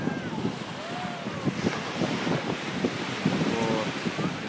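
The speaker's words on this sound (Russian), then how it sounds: "И вот наш пляж идет." Sea waves wash onto a hotel beach in Belek, a steady broad surf roar mixed with wind buffeting the microphone, with faint voices and a few brief tonal sounds in the background.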